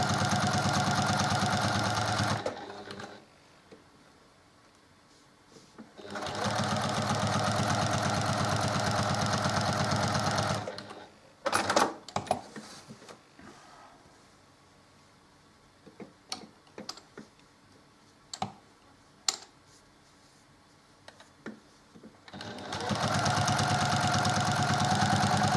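A sewing machine stitches split diagonal quilt blocks in straight lines, running in three steady loud bursts separated by quieter stretches of ticking and fabric handling.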